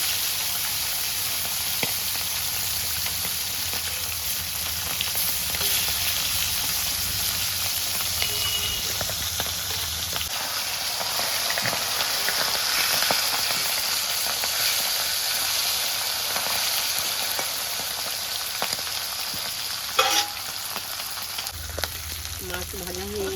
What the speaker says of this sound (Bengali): মাছগুলো ভেজে নিলাম। ইলিশ মাছ